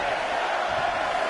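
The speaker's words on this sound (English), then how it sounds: "Listen to this crowd count the next one in." Wrestling arena crowd at a WWE match featuring Seth Rollins roars in a dense, sustained wall of voices, loud and unbroken for the whole moment.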